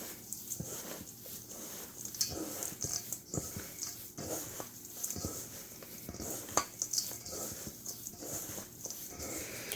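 Dry loose herbal tea blend stirred and tossed in a bowl, giving soft rustling patter and light scraping clinks close by, irregular and continuous throughout without talk.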